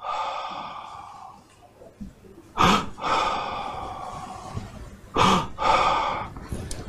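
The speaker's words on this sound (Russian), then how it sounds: "Это короткий вдох через рот и очень длинный, мягкий, произвольный выдох, как будто ты очень устал." A short mouth inhale followed by a long, soft, drawn-out exhale, like a very tired sigh, done as a breathing exercise; two clear breath cycles, close and alone, with quiet pauses between.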